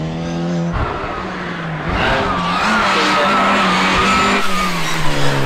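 Classic Mini cars race flat out in a speed sprint at the Sandown Sprint on the Isle of Wight, their engines droning loud and close with rising and falling pitch as they pass, and faint tyre squeal now and then.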